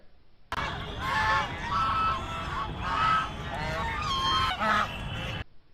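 Loud, repeated honking calls from a duck or goose, several nasal cries in quick irregular succession, close and clear with little background.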